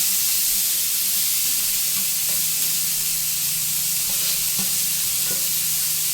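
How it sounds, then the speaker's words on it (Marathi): Cumin seeds and chopped onion sizzle steadily in melted butter for pav bhaji, a loud, constant frying hiss with a few faint stirring clinks. "आता बटरमध्ये आपण घालूया जिरे, आणि आपण चॉप केला होता तो कांदा."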